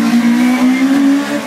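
Rally car at the Prom Rally in New Brighton roaring past on the track, a loud high engine whine climbing slightly in pitch as it goes by, close and continuous.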